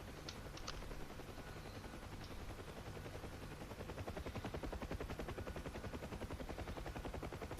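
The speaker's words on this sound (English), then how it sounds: "just letting my guns just shoot up into that little bowl and just picking targets" Helicopter guns fire in a flight simulator game, sustained rapid bursts over a steady rotor drone, low and fairly faint with no talking.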